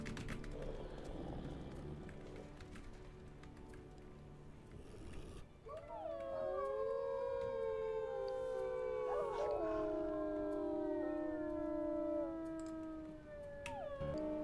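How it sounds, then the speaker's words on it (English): Wolves in the WolfQuest video game howl in layered, overlapping pitches after a noisy opening stretch, the sustained rising and falling calls loud and close, swelling together and then tapering toward the end. "They howl at him and he's gonna howl back."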